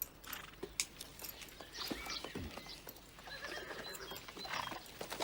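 A horse whinnies and its hooves clip-clop nearby, with uneven hoof strikes and shuffling across the whole stretch and no talking.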